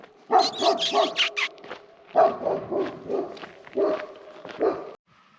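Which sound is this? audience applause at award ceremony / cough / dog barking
dog barking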